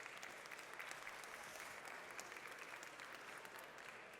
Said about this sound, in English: And warm applause.